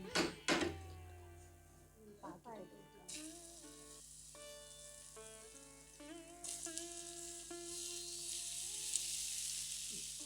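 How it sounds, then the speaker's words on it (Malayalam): Oil sizzles in a hot pan while sweet potato balls are being cooked, a soft hiss that swells at about three seconds and grows louder near the end, with faint kitchen sounds and tones underneath. "നന്നായിട്ട് ചൂടായി വന്നിട്ടുണ്ട്. അതിലേക്ക് നമുക്ക് എണ്ണ ഒഴിച്ചിടും."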